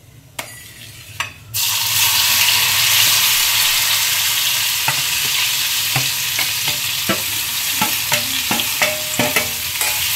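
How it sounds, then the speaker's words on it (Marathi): Raw mango pieces drop into hot oil and burst into a loud, continuous close-up sizzle, with light clicks and scrapes of stirring scattered through the frying. "तेलामध्ये असं छानपैकी परतून घ्यायच्या त्या आंब्याच्या फोडी"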